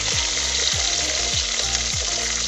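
Onions and curry leaves sizzle steadily in hot oil in a pan while a fish gravy is cooked, a loud close frying hiss with four regular stirring scrapes and no talking.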